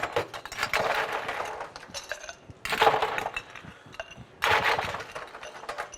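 A tall Collins glass clinks and rattles against other glassware and a bar counter in repeated bright bursts, loud and close.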